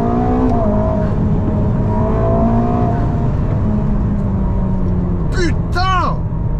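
A Ferrari twin-turbo hybrid accelerates hard, heard from inside the cabin as a loud, steady engine rumble with rising tones, while people talk and exclaim over it.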